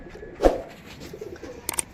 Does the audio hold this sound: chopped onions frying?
no